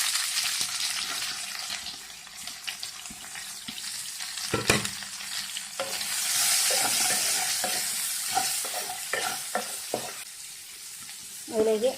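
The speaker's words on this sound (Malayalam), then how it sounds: "കടുക് പൊട്ടി അതിലേക്ക് നമുക്ക് സവാള ചേർക്കാം." Onions fry in coconut oil after popping mustard seeds, a continuous sizzle broken by stirring scrapes and a few clinks of a utensil against the pan, with a louder burst at the very end.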